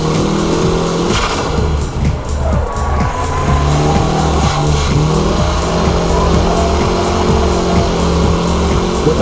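Drift car running laps at the Ebisu circuit, engine roaring loud and steady with revs rising and falling through the corners, and short bursts of tyre squeal from the slides.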